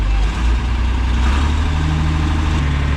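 A heavy diesel John Deere 4030 tractor engine idles steadily nearby at about 1,000 RPM, a low rumbling drone that holds constant throughout.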